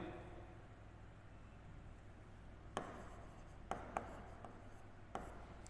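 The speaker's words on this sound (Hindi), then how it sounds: "वापस लिखता हूं मैं धातुएं" Hand writing on a board or page during a Class 10 science lesson, with faint scratchy strokes over a steady low hum and a few sharper taps as the writing surface is struck, no talking.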